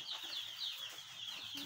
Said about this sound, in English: These are day old chicks. So I'll be unboxing this and you see the chicks jumping out.